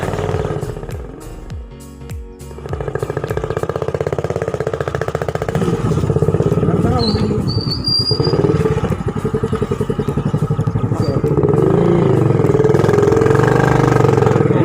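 Hero Passion Pro motorcycle engine with its exhaust modified using a Pepsi can, idling with a lumpy, thumping burble that swells louder and steadier after the first few seconds, close and continuous.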